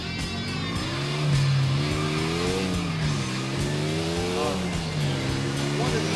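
NRG 900 motorcycle in GTA IV, its engine revving and droning steadily with pitch rising and falling as it accelerates, while people talk over the engine noise.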